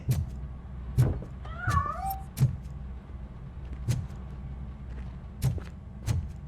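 A cat meowing from a hiding spot inside a piano in RoboCop: Rogue City, one short rising-falling meow amid sharp clicks and thumps over a low rumbling background.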